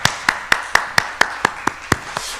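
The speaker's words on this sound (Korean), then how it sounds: "우리 하나님께 우리 감사와 영광의 박수 한 번만 더 올려드리겠습니다" A church congregation at a Korean worship service claps in a steady beat, about ten evenly spaced sharp claps, close and clear with no voices over them.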